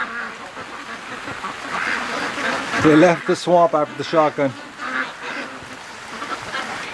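Ducks quack in a backyard as rain begins to fall, a burst of several loud, close honking calls in the middle, heard under steady talking.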